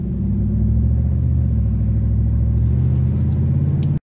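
A car engine running steadily after a distributor rebuild, a continuous loud low rumble and hum as the vehicle drives along, with no talk, cutting off abruptly at the end.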